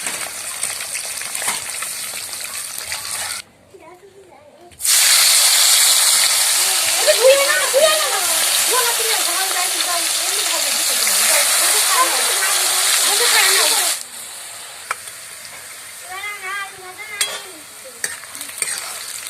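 Potatoes frying in a pan at a group picnic cookout, a loud continuous sizzle with spatula scraping that drops out briefly, returns strongly, then fades to quieter stirring with faint voices nearby.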